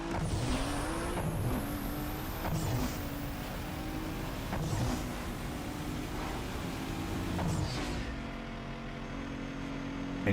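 Race car engine roaring and revving in Need for Speed Underground 2 under nitrous boost, a loud continuous drone with rising pitch and repeated gear-change surges, ending in a sudden drop near the end.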